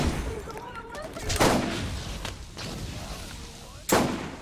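Grenade blasts in the Borderlands video game, two broad booming bursts a few seconds apart over a busy combat backdrop, the second sharp and loud near the end.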